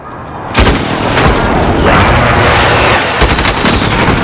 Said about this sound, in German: Alles klar. Luftschlag im Anflug.